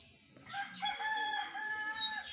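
A rooster crows once, a clear, drawn-out call rising and holding before trailing off, fairly close and alone.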